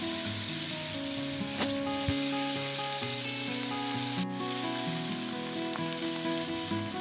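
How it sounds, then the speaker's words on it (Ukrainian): Meat sizzles in a pan with onion and garlic, a steady crackling fry close by with occasional clicks and stirring scrapes, and no talking. "Після того, як наше м'ясо обсмажили, додаємо цибулю та часник."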